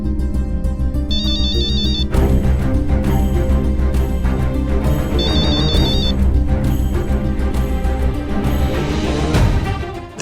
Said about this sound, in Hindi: दादी फिर से फोन कर रही है।